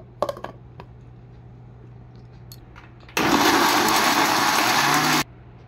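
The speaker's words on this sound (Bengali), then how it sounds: "বেদানা আর আপেলটা গ্রাইন্ড করে নিয়েছি।" An electric blender grinds pomegranate and apple in a home kitchen, a loud, steady, harsh whir that starts abruptly, runs for about two seconds and cuts off, following a few light clicks and knocks, with no talking.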